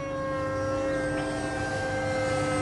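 A foam F18 RC jet prototype with a Microjet version 3 power system flies past, a steady high whine with sustained tonal hum heard alone, moderately loud.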